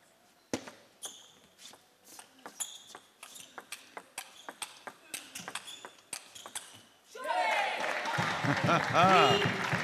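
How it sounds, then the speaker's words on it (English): At a T2 APAC team table tennis fixture, crisp ball pings and bounces of a rally are followed by the crowd bursting into loud, sustained cheering and applause, with a commentator talking over it. "that was a big cheer"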